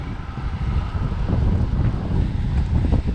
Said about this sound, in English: it's too windy to even breathe